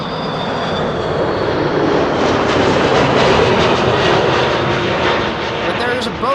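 Airliner engine roar at Amsterdam Schiphol Airport on a sunny day, a steady loud broadband rumble that swells slightly mid-way and holds for several seconds, with a voice talking over it.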